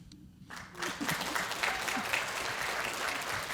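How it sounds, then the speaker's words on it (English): A round of applause on a podcast set, starting abruptly after a brief quiet moment and continuing as dense, steady clapping close to the microphone. "Chris, give the man a round of applause, please."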